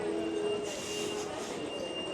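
A subway train rumbles through a Tashkent metro station connected to a shopping mall, a steady rolling roar with thin, sustained wheel squeal, heard from fairly close.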